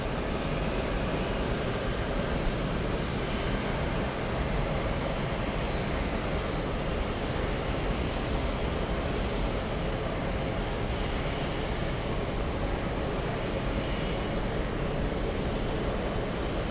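A Boeing 767 jet at JFK airport gives off a steady, moderately distant engine rumble with broadband roar that holds evenly throughout, with no voices.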